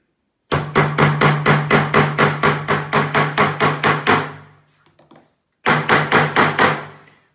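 Rapid, evenly spaced hammer blows strike a rivet set to round over a rivet on a canvas tote bag, about fifteen loud close strikes in a steady run, a brief pause, then another quick burst of blows.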